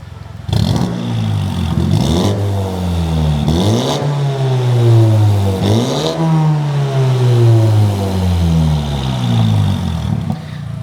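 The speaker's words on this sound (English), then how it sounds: "Minis are normally quite a nice sounding exhaust, nice tone, quite poppy and stuff." A modified MK3 Mini Cooper S with a custom rear muffler backbox revs repeatedly through the exhaust, rising and falling in pitch with loud, throaty bursts and occasional clatter, close by.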